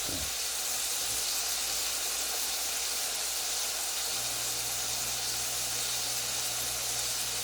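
Thin burger patties sizzle in a pan over medium-low heat, a steady, close hiss of frying fat that runs evenly throughout without a break, with a faint low hum underneath and no talk.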